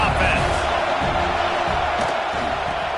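Football stadium crowd roaring steadily throughout, a dense continuous wash of voices with broadcast commentary over it.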